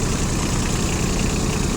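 A Yanmar KE-3 compact four-wheel-drive mini tractor engine idles steadily nearby, a continuous low rumbling drone with even, unbroken loudness and no talk.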